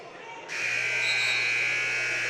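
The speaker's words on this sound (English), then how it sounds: "And the buzzer will sound." A scoring buzzer sounds at a high-school wrestling match, a loud, sustained electronic drone starting half a second in and holding steady to the end.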